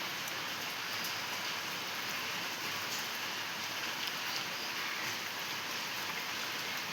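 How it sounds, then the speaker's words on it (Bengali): Rain falling outdoors as a steady, even hiss of drops on surfaces, unbroken and moderately loud for the whole stretch, with no voices. "বৃষ্টি পড়ছে,"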